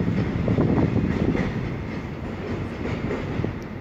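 Freight train of 35 wagons moving through a central station, its heavy rumble and repeating wheel clatter loud and near, holding steady with faint metallic squeal hints.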